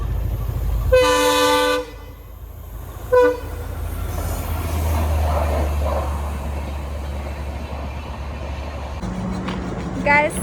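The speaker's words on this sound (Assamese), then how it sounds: "এয়া ট্ৰেইন আহি আছে।" A train approaches and passes near Tetelia in Assam, sounding its horn in a couple of loud blasts over a steady rolling rumble, with a further short honk as it moves by.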